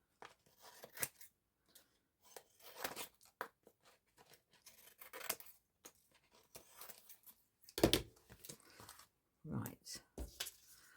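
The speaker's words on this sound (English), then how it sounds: "let me just cut this roughly" Scissors roughly cut through fabric or paper scraps in short snipping bursts, crisp and close, scattered between stretches of quiet and interleaved with a speaking voice.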